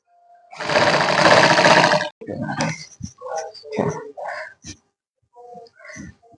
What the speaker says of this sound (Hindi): इसकी भी दोनों साइडों पे सिलाई लगेगी और ये बहुत नीट हो जाएगा।